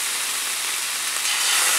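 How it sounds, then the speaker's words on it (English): Shrimp sizzle in a hot pan of olive oil over medium heat, cooking on one side to caramelize; a steady, loud broadband hiss runs the whole time and swells slightly near the end, with no voices. "You know it's hot when it sizzles like that."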